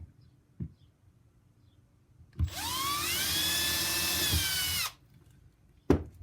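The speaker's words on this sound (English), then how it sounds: "And drill your second pilot hole." A power drill whirs up in pitch and runs for a couple of seconds, close and loud, boring a pilot hole for a screw, with quiet knocks before and after.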